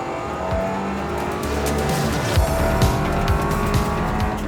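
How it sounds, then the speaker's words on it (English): Ford Escort Cosworth rally car driving hard on a track: a loud, close engine roar with rising and falling revs, gear changes and squealing tyres that carries on without a break. "But Daryl's taking him out in this Escort Cosworth."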